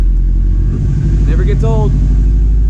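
Subaru Forester XT engine starting up cold, a loud low steady rumble close by with someone talking over it briefly.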